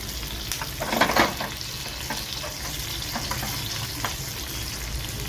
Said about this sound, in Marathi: फोडणी छान अशी